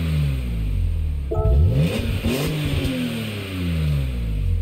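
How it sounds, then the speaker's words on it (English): Revving of a BMW engine in Gran Turismo 7, with a steady idle hum broken by several quick throttle blips that rise and fall in pitch, loud and close, no voices present. "That actually sounds like a BMW."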